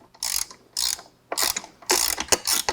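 A hand ratchet fitted with a 3/16 socket backs out screws during a Sony DSX-M80 install on a Harley-Davidson Touring motorcycle, giving four close bursts of rapid, crisp clicking with short pauses between them, no talking.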